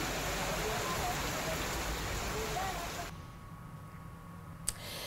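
Heavy rain comes down in Renwal, Jaipur, a dense, loud hiss of drops that holds steadily for about three seconds and then cuts off, followed by a quieter background.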